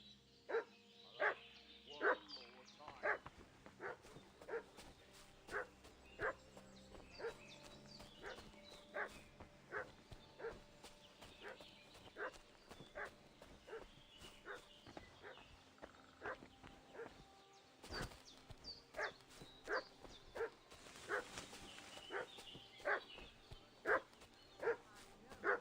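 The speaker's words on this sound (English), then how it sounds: "What's that dog making such a fuss about?" A dog barks repeatedly in a medieval village in Kingdom Come: Deliverance II, with sharp, fairly loud barks recurring throughout over steady game ambience and background rustling, no talk.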